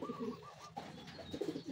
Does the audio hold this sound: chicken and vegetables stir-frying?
no